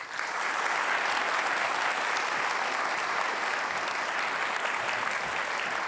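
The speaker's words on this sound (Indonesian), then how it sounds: "Sekali lagi kita kasih tepuk tangan untuk 2 kandidat" Steady, dense applause from a large studio audience for two Jakarta gubernatorial election candidates at a televised debate, loud and sustained throughout without talk.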